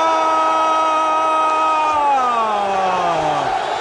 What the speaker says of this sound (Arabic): الجمهور ينفعل مع كل اللقطات